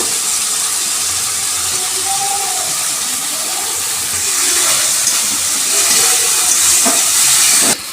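Chilli and garlic paste fries with chopped tomatoes in oil for a fish curry, making a loud, steady, broad sizzle that holds throughout and swells slightly toward the end before it abruptly drops.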